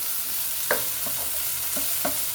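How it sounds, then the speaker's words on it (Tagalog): Sweet peas are stirred in a frying pan over a steady background sizzle, with a few soft scraping clicks from the utensil, close and unaccompanied by speech. "Haluin naman para hindi masusunod."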